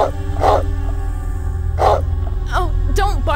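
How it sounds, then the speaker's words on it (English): A dog in the Sega Saturn survival horror game Deep Fear barks loudly twice in a row, followed by yelping whimpers, over a steady droning game soundtrack. "don't bark so much"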